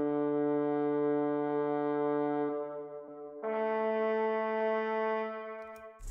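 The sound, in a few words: one-shot brass sample in a beat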